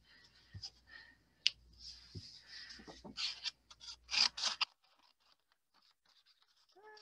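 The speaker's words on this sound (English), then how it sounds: "I'm going to just scissor trim this real quick" Scissors trim a piece of stamped white cardstock in a quiet room with a series of close, crisp snips and paper rustles, then quiet handling as the cutting stops.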